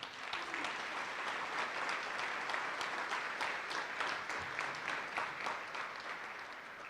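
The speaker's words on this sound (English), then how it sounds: "give them a round of applause" A crowd at the Artemis Center's benefit breakfast applauds steadily for about seven seconds, with dense, even clapping throughout and no talk over it.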